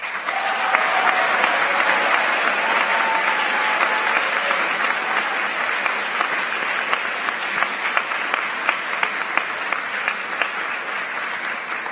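Loud, sustained applause from an audience at the 2017 NCSSM awards ceremony honoring Presidential Scholars, a dense even roar of clapping that holds steady throughout.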